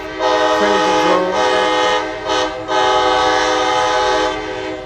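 A loud Florida East Coast Railway locomotive horn blasts close by in long sustained tones, broken by two brief gaps, over the rumble of a local freight train.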